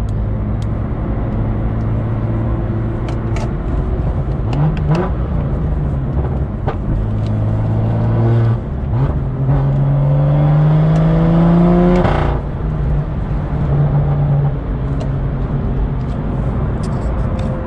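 A BMW F87 M2 engine with an open aftermarket exhaust, rumbling close by with steady revs that rise and fall, a long climbing pull near the middle, and no talk.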